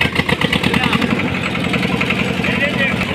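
An engine idles with a rapid, pulsing mechanical chug, loud and close, while someone talks over it.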